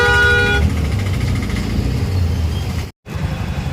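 Busy road traffic: a car horn honks sharply for a moment at the start, then a steady wash of engine rumble and passing vehicles follows, loud and nearby. The sound drops out briefly near the end.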